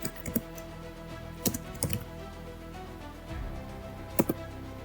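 A computer keyboard is typed on in a few sparse clusters of quick, light clicks, near and fairly quiet, with a low background hum.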